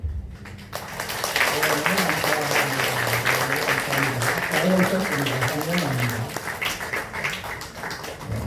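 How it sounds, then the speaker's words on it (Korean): A church congregation applauds to welcome two guests, a dense, loud wave of clapping that swells and holds for several seconds before thinning out, with voices mixed in under it. "일어나 주시면 큰 박수로 환영하도록 하겠습니다."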